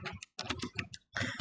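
Several quick key presses clatter on a computer keyboard, a close cluster of crisp clicks followed by a short pause and one more burst of keystrokes.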